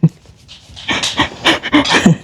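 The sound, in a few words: dog panting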